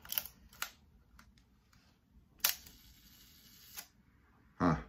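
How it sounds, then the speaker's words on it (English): A vintage Canon, Nikon, Konica or Minolta film camera fires its shutter several times, crisp mechanical clicks with a whirring hold between two of them as the shutter speed changes, close and alone in a quiet room. "So let's see what happens if we change the shutter speed."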